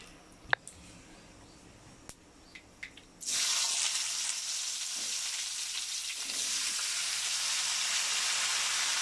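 Mustard seeds and dried red chillies drop into a hot pan and burst into a loud, continuous close sizzle after a few light clicks, the hiss holding steady to the end.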